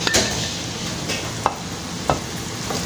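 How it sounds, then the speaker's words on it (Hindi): Tomatoes and spices sizzle in a pan while a utensil stirs and scrapes them, with a steady frying hiss broken by a few sharp clicks of the spoon against the pan. "और इसको 2 से 3 मिनट के लिए मैं भून लूँगी।"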